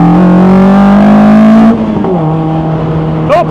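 Lightweight rear-wheel-drive Westfield Se NA R-T sports car revving hard as it launches with heavy wheel spin, a loud rising engine note that drops sharply at a gear change, then a shorter burst near the end.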